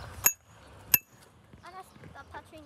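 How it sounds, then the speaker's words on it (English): A bicycle bell is rung twice in a park, two bright metallic dings close by, followed by faint voices talking. "stop touching the bell."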